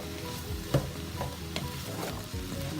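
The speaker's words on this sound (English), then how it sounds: "Give that a stir in." Onions, peppers and celery sizzle in a pan while being stirred for meatball mixture, a continuous crackling fry punctuated by a few soft utensil scrapes and taps, close and fairly quiet.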